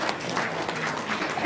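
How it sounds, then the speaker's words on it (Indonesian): A small crowd at an evening gathering gives a brief burst of continuous applause, a dense, even wash of clapping throughout. "tepuk tangan dong"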